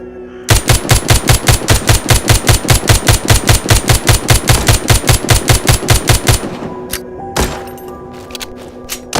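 Rapid automatic gunfire from The Walking Zombie 2 video game rattles in a fast, even burst of about thirty loud shots, then stops, followed by a couple of isolated single shots.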